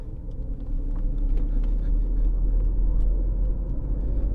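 Mercedes S600 V12 engine rumbling low and steady as the transmission engages gear, a dense close drone with faint clicks over it.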